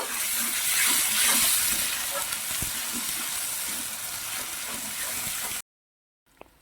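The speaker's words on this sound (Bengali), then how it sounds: "আর দিয়ে দেবো টমেটো এবার নেড়েকে একটু কষিয়ে নেব" Tomatoes with turmeric being stir-fried in a pan make a steady, loud hiss and sizzle, with occasional scrapes of stirring, for several seconds before cutting to near silence with one small knock at the end.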